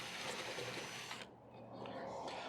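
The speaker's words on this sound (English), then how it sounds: "I'm drilling a hole through the aluminum or through the fiberglass" A power drill bores through fiberglass on an old hot tub under restoration, a steady close whine that cuts out briefly midway and then resumes, with no talking.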